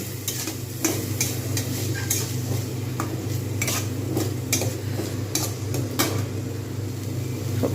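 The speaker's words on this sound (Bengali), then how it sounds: "এগুলো আমি সব দিয়ে দেবো জাস্ট একটু করে নেড়ে নেবো" Winter vegetables stirred in a pan with a steady low sizzle, punctuated by irregular sharp clinks and scrapes of a utensil against the metal, close and fairly loud.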